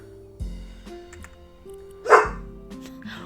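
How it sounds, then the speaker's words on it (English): Two loud, close dog barks ring out about two seconds apart inside a house in the game House Flipper 2, over a quiet background hum. "you're just gonna keep barking"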